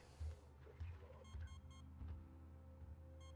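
An alarm clock going off inside the video game Alien Isolation, repeated short beeping bursts in a regular pattern, fairly faint over a low ambient hum.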